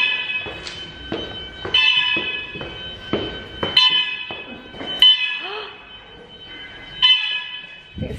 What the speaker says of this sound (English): Oh, the lift's not working. It's very loud.